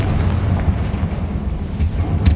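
Spell explosions from Hogwarts Legacy combat boom repeatedly over a dense rumbling game soundtrack, with a few sharp bursts standing out near the end.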